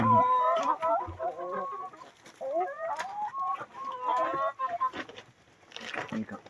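Hens clucking and murmuring close by, let out after rain to graze on green grass, a busy overlapping chorus of calls with a brief crow-like note, no speech.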